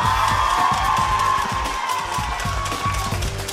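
An esports arena crowd applauds and cheers after SKT beats BBQ in a League of Legends match and ends a five-game losing streak. The applause is a loud, continuous roar of clapping and whoops that carries through without pause.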